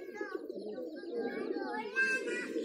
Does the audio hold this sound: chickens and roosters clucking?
no